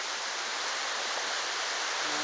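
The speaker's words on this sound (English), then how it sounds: "Got the creek running through here." Steady broadband rush of a creek flowing through a hot desert canyon along a hiking trail, an even wash of water noise heard alone at moderate distance throughout.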